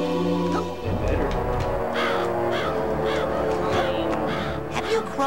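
Crows in the Psychonauts video game caw repeatedly in overlapping calls over a dense game soundtrack, loud and close, with a voice murmuring underneath.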